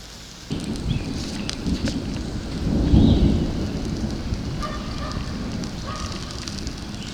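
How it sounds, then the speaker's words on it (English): Steady rain patters and hisses throughout, with a low rumble swelling briefly in the middle, like distant thunder. "Sounds like rain."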